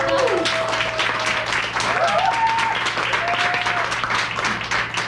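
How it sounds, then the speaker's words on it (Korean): An audience at a product-lecture event at a Busan center applauds warmly, with sustained clapping from many hands that swells briefly and then holds steady for several seconds. "다시 한번 큰 박수 한번 주십시오"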